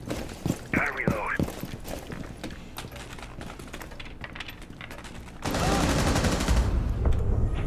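Gunfire rings out in a team-based shooter video game: quick bursts of shots early on, then a louder sustained barrage of firing in the last seconds.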